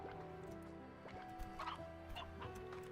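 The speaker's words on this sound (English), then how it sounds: "there's a rooster over there." A rooster in the video game Slime Rancher, a run of clucks and gobbling squawks heard over steady game background tones and a soft music bed, fairly close.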